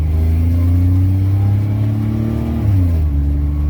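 A 4.3 V6 truck engine is held at full throttle, a loud, close, sustained roar with strong low harmonics that dips briefly in pitch and then climbs again, with no talking over it.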